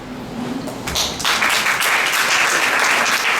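Applause from an audience at a memorial lecture, starting with scattered claps and quickly building into loud, dense clapping that holds steady to the end.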